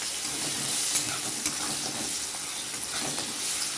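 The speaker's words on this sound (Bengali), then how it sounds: "এটা একটু আধ ভাজা করে নিই তারপরে আলুটা দেবো" Chopped onion fries in hot oil in a karahi with cumin and bay leaf, making a close, constant sizzle with light stirring scrapes.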